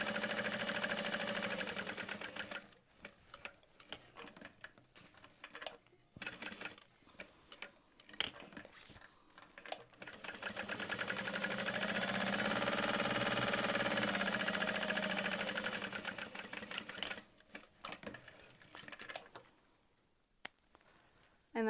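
A sewing machine runs steadily, stitching around all four sides of a small fabric handbag about an eighth of an inch from the edge, with a rapid mechanical ticking and short pauses and restarts between runs.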